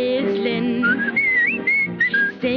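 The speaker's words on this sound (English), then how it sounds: "I'm up at the crack of dawn whistling" Melodic whistling inside a cheerful song, a bright lilting tune that rises and falls in short phrases over accompanying music, loud and close.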